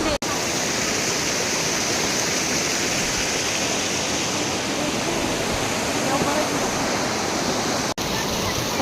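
Water rushes loudly and steadily at Sai Tekdi, a dense continuous roar of flowing water that stays even from start to finish.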